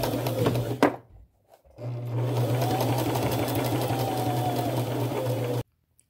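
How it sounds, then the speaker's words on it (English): A sewing machine stitches lace onto fabric with a small straight stitch in gold thread, loud and close, running in a steady hum with a short stop near the start before a long continuous run that cuts off abruptly. "Now I'm just going to take it to my machine, both these pieces, and stay close to the edge and get that lace sewn on."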